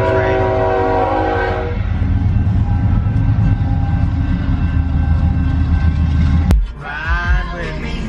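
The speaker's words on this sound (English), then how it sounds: "I just got stuck behind a train." A loud train rumbles past close by with a sustained horn blast, ending with a sharp click followed by quieter clatter.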